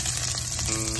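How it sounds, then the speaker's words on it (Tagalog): Garlic sautéing in a hot pan for a pork ear asado dish, giving a steady close sizzle and crackle of frying with no talking. "So igisa na po natin ang ating bawang."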